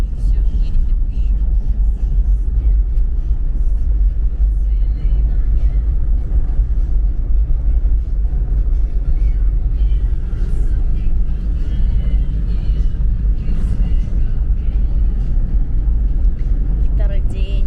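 A car driving along a smooth, well-packed road, a loud, steady low rumble of tyres and engine heard from inside, continuous throughout with faint rattles.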